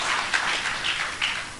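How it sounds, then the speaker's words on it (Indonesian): Congregation applauding during a church service, a steady wash of clapping from many hands with a few swelling surges, close and fairly loud, no voices over it. "Tepuk tangan lagi bagi Tuhan Yesus."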